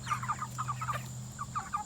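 Several chickens cluck in quick, choppy bursts over a steady background hum.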